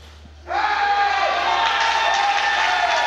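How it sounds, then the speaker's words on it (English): A crowd at a sporting event suddenly breaks into loud, sustained cheering and shouts of encouragement after a quiet moment, filling the space and holding steady to the end. "plenty of encouragement from the crowd"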